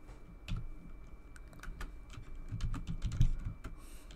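Typing on a computer keyboard while writing Python code: a soft, irregular patter of close key clicks, with a few firmer taps near the end.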